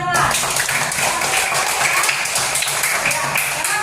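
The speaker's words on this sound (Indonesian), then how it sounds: "Oke, tepuk tangan buat Perlan." Students in a classroom clap for a classmate, a dense, steady burst of applause lasting several seconds with voices mixed in.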